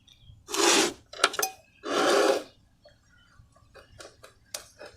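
A knife saws through a freshly made Maggi egg roll on a hard surface. Two strong rasping strokes are followed by light taps and clicks of the blade, close and clear with no talk.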